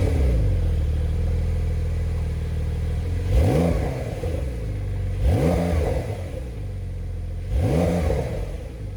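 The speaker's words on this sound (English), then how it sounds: "what's really important to me is having a nice startup sound" Porsche 911 GTS engine idling with a steady low rumble, then three sharp revs at roughly two-second intervals, each rising and falling quickly, close and loud with no talk.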